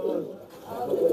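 Pakistani pigeons in a pigeon shop at Khulna's Boro Bazar give a brief, soft, low cooing close by, heard under a murmur of background voices.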